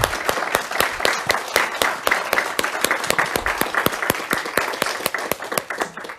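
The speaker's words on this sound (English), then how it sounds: "would you join me in a gigantic round of applause for all of our panelists" Sustained applause from an audience, steady rapid clapping from many hands filling the room for several seconds.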